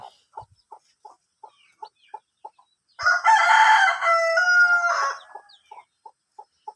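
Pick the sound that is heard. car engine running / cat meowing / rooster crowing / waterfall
rooster crowing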